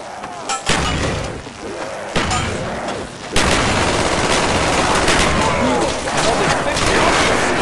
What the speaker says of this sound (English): Down some claymores. Throw some grenades.